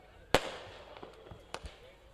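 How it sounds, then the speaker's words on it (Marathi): Fireworks burst at a night ceremony for the Guru Krupa Chashak 2025 event, a loud sharp bang followed by several fainter, distant cracks and pops. "फटाक्याची आतिषबाजी."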